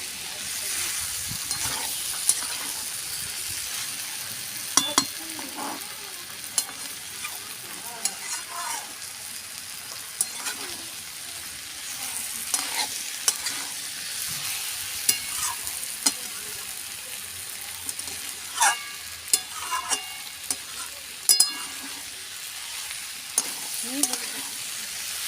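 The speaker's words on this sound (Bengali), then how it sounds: "এবার আমি আলুটা দিয়ে ভালো করে আবারও কষিয়ে নেব।" Fried potatoes being stirred and sautéed in a pan, with a continuous sizzle and irregular sharp scrapes and clinks of the spatula across the pan throughout.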